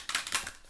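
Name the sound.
shuffling a deck of tarot cards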